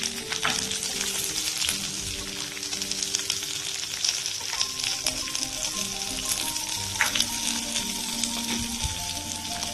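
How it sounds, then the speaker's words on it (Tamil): Curry leaves and grated coconut sauté in a hot pan for a spicy pirandai relish, giving a continuous crackling sizzle with occasional scraping stirs, close up and steady with no talking. "கருவேப்பிலையும் போட்டு வதக்கிட்டு லேசாக வதக்கி வச்சுட்டு"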